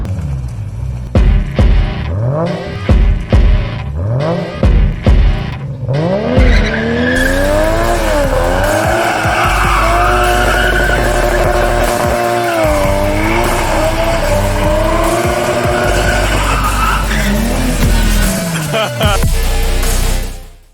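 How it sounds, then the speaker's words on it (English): A Toyota MR2 with its 5SFE engine revs through several quick throttle blips, then holds a loud sustained engine note that rises and falls with the driving. Voices are heard over the engine. "Today we are taking the MR2 for its final drive with its 5sfe before we tear it apart"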